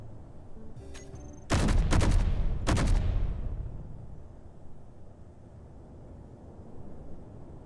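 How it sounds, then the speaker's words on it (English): Sci-fi lasers fire in a racing video game, two sharp bursts of rapid crackling shots close together, loud and near, followed by a fading rumbling tail over quiet background hum. "I can't even see your lasers firing"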